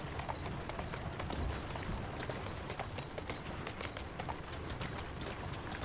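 Horse hooves trotting in Assassin's Creed Syndicate, a steady rapid clatter of hoofbeats running continuously beneath a busy layer of game street ambience.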